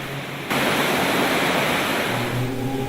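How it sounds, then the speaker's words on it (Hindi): Natural waterfalls along a Himalayan mountain trail on the Kailash Mansarovar route give a steady, dense roar of rushing water that swells louder after the first half second and then holds, close and continuous, with no voices. "रास्ते में पड़ने वाले प्राकृतिक झरने थकाकर चूर कर देने वाली यात्रा को सुगम बना रहे हैं।"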